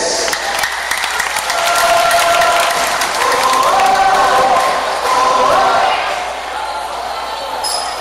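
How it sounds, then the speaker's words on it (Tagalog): Crowd applause and cheering at a barangay sports league event honoring Father Jun Sanchez, a dense, steady wash of clapping that swells and then eases slightly near the end. "palakpak po natin si Father Jun Sanchez"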